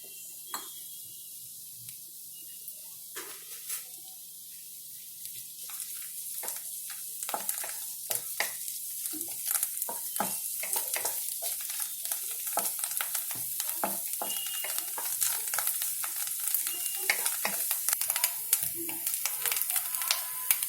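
A tablespoon of oil with mushrooms added, starting as a quiet hiss and building into a lively sizzle with rapid irregular pops and spatters that grow louder and denser over twenty seconds, close up and without voices.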